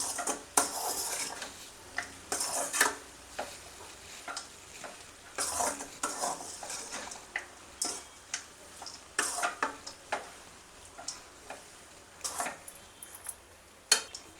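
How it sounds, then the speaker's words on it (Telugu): A spoon scrapes and clinks against a pan as mango tamarind rice is stirred, a steady series of close metallic scrapes and taps in an irregular rhythm, with no voices. "ఇప్పుడు అటు ఇటు కలుపుతూ రైస్నంతా బాగా కలుపుకోవాలి."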